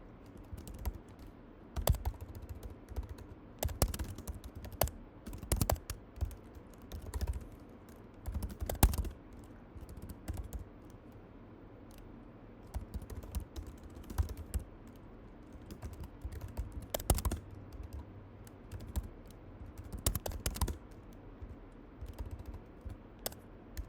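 Someone types on a computer keyboard in close, irregular bursts of clicking keystrokes, with short pauses between flurries and some louder key strikes standing out.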